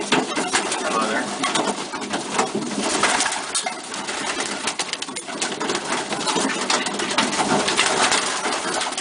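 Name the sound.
pigeons cooing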